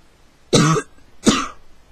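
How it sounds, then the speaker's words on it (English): Two sharp coughs, about three quarters of a second apart, close and fairly loud against a quiet background. "I think I'm getting a cough"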